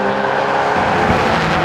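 Mazda MX-5 race cars at Brands Hatch in a 2013 BRSCC championship race, engines roaring loud and steady close by, with a throaty surge midway as a car passes.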